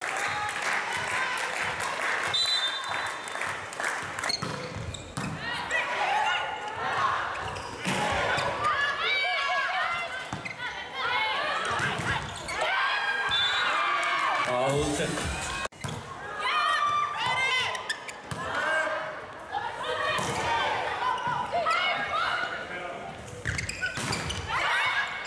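Audience applause in a hall, bursts of clapping and crowd noise that rise and fall over a long stretch, mixed with scattered thumps and voices talking over it.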